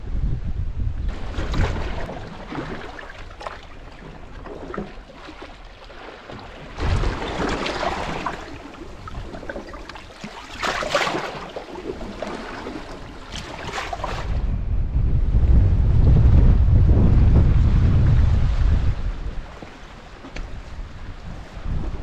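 Strong coastal wind buffets the microphone during a sole fishing session on the shore, rising and falling in rough gusts with a long, heavy rumbling surge near the end and the wash of surf beneath.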